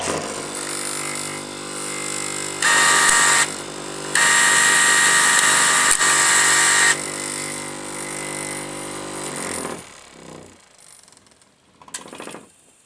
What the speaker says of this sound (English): This lever when pressed down will activate the sharpening mechanism which will go down and come back for a whole cycle, thus sharpening the blade.